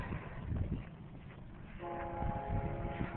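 A train horn sounds from about the midpoint, a steady multi-tone blast over rumbling engine and track noise.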